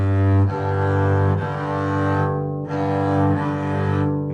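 Double bass playing an open string together with a halfway harmonic on the neighbouring string, tuned in fifths: two sustained, steady tones ringing together, restruck twice, clear and alone.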